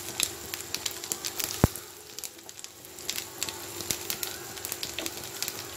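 Chopped round-sliced garlic cloves sizzle softly in hot oil in a home kitchen, a low steady frying hiss broken by scattered crackles and one sharp clink partway through.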